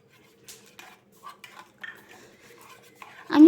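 A spoon stirs neem leaf juice into softened soap base in a saucepan, giving a series of light metallic scrapes and taps at irregular intervals, ending in a louder clatter against the pan.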